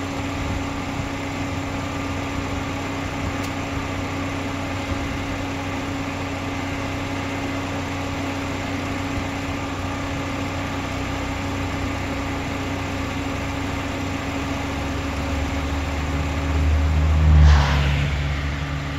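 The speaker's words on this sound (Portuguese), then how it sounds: "Os carros começam a passar também pela rodovia em busca da cidade da neve" Traffic drones along a highway in snowy São Joaquim, a steady low engine rumble throughout with one vehicle swelling closer near the end.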